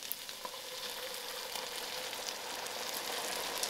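Browned onions sizzling and frying in a pan for onion soup as half a cup of wine goes in to deglaze, a steady bright crackling hiss throughout, close and even, with no talking.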